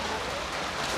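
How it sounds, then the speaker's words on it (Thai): Heavy rain pours down in a dense, steady hiss, loud and close, with no talking over it. "เพราะว่าฝนตกหนักแล้ว"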